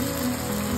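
Curry leaves hitting hot oil in a pan of cooking tomatoes, a brief dense sizzle that crackles steadily and close throughout.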